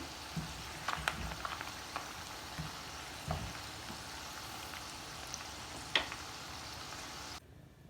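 Potatoes and onions fry in hot oil, a soft, steady sizzle broken by scattered pops and a few stirring clicks, heard close but faint.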